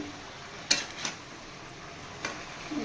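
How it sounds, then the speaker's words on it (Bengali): A fish head stirred and fried in a pan, a few sharp spatula scrapes and taps standing out over a faint, steady sizzle, with no talking. "মাছের মাথাটা ভালো করে কিছুক্ষণ নাড়াচাড়া করে আমি ঢেকে দেবো"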